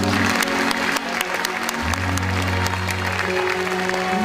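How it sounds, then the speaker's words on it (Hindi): A comedy show audience breaks into dense, sustained applause, steady and loud throughout, a full crowd clapping continuously with no break and faint murmur underneath. "मैं चाहूँगा उनके लिए भी इतनी ही अकीदत भरी तालियां हों"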